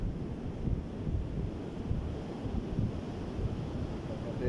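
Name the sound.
sea waves on the shore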